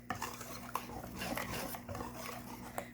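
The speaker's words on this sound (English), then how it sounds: "you don't want to go too crazy with the whisking because you don't want your batter to end up all over your tabletop" A whisk scrapes and taps steadily around a bowl, mixing egg into applesauce pancake batter, close and continuous with a few sharper clicks against the sides.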